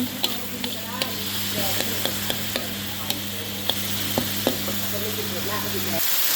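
Thai holy basil (kaprao) stir-fried in a pan, with a steady close sizzle and hiss under repeated sharp scrapes and taps of a utensil against the pan, then stopping abruptly near the end.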